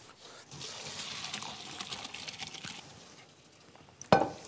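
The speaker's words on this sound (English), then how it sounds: "I'm going to strain them." Boiled potatoes being strained in a kitchen, with hot water pouring and draining away in a steady rushing flow for several seconds, then a short sharp clatter at the end.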